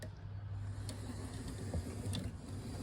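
A Hornby GNER Class 91 model train runs steadily on its track after a repair, giving a continuous low mechanical hum and whir with faint clicks. It plays alone at a quiet, even level throughout.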